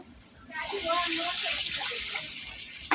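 Water poured into a hot frying pan holding onions fried in fish oil, a sudden loud rushing hiss that starts after a brief pause and holds steady to the end.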